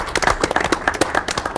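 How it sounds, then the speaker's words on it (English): A burst of applause from a poker tournament crowd, dense clapping that carries steadily for a moment with no voices over it. "Let's give Daniel in the 2 seat a round of applause"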